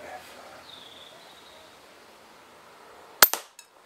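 Air gun fires a pellet at a card target outdoors, a single sharp, loud crack followed by a brief smaller report, after quiet moments with faint background ambience.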